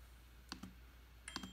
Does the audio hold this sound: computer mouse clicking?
yes